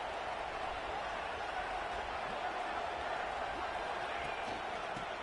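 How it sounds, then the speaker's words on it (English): A steady, dense roar from a stadium crowd in an NCAA college football video game featuring the Buckeyes, holding an even, unbroken wash of sound throughout. "Listen to the crowd energy here in the early going."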